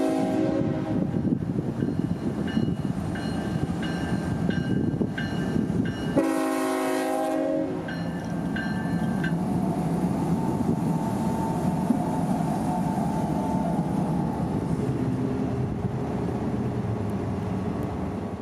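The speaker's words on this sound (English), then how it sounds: "753 departs south" Freight train L753 departs southbound, a long steady rumble of rolling cars and clanking wheels broken by one loud, close multi-tone horn blast lasting about a second, then the rumbling carries on.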